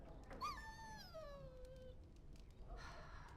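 A dog whimpers in the video game Dragon Age: Origins, a single high, falling whine that drifts downward over about a second and a half, quiet, followed by a faint rustle.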